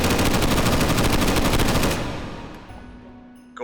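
A Bren light machine gun fires a long, fast, loud burst in a virtual-reality shooter, then cuts off and leaves a fading echo with a faint click at the end.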